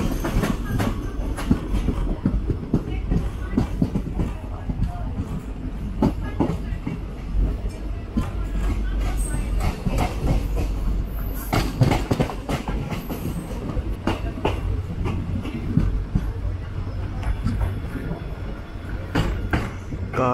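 The 06602 Madgaon Express rolls into Mulki station on the Konkan Railway, a steady loud rumble with continuous clickety-clack of wheels over rail joints and no talking.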